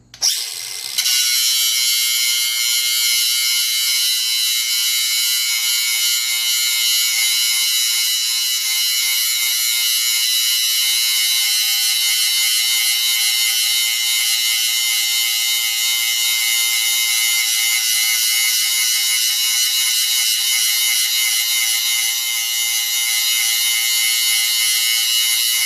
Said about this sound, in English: So I'm gonna grind a little spot for that.